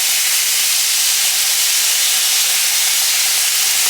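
Food frying in hot oil, giving a loud, continuous sizzling hiss that stays close and unbroken throughout.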